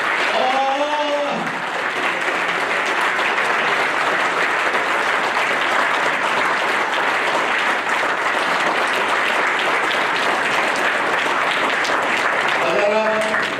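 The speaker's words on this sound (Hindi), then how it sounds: "अगर आप इतनी तालियां हो जाएंगे तो मैं बात कैसे कर सकूंगा।" Sustained, loud audience applause fills a hall during a political speech in Hindi-Urdu, steady throughout, with a voice briefly heard at the start and end over the clapping.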